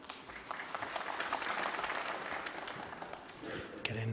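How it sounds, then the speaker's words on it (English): Snooker audience at a professional tournament final applauds a shot: steady, diffuse clapping from a seated crowd fills the hall for several seconds, with a faint voice beneath and a brief knock near the end. "Getting applause even for easy shots."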